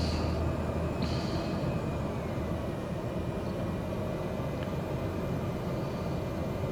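A turbocharged aircraft engine in Microsoft Flight Simulator 2020 drones steadily at a fixed throttle, a continuous low rumbling hum with faint whistling tones near the start.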